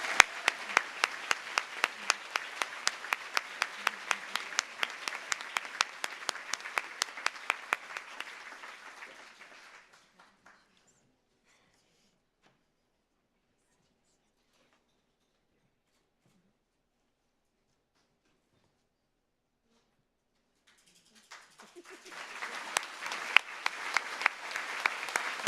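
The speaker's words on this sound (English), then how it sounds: "Let's give these special young women a round of applause." Audience applause for young women award winners at an innovation awards ceremony: dense clapping for about ten seconds that fades into near silence, then a fresh burst of applause starting up near the end.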